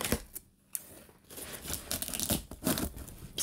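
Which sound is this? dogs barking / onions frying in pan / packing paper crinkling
packing paper crinkling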